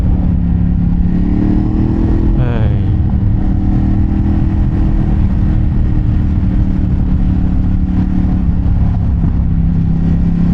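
A Ducati Hypermotard 950 RVE motorcycle engine roars continuously while riding, loud and close, with a brief rising shift in pitch early on, then a steady drone.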